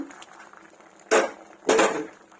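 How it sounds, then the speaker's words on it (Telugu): A metal pressure cooker lid is lifted off while lentils cook, making two sharp metallic clanks in quick succession over a quiet kitchen background. "ఇప్పుడు ఒకసారి చూద్దామా తీద్దాము జాగ్రత్తగా చూసుకొని తీసుకోండి మూత"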